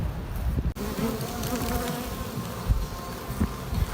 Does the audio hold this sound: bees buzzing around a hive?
yes